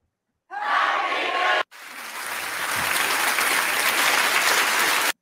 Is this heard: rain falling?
no